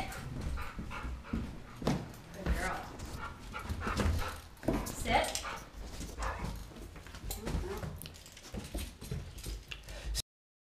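A dog breathes and pants close up in a short, uneven rhythm, with snuffling and movement noises mixed in, and people speak quietly now and then.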